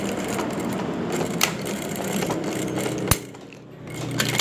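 A domestic sewing machine with a regular presser foot stitching fabric for a V-neck dress, with a soft continuous mechanical whir and a few sharp clicks, fairly quiet.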